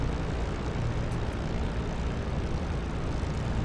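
A WWII propeller fighter engine idles steadily at about 1200 RPM in DCS World, giving a dense, loud, even drone with no change in pitch or level and no other sounds on top.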